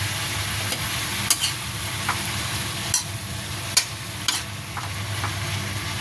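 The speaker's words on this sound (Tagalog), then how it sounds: "Tapos lagyan ko na ng itong more na liquid seasoning kasi mabango po ito." A budget home-cooked dish sizzles in a pan after liquid seasoning is added, with a steady frying hiss broken by several brief stirring scrapes and taps, no talk.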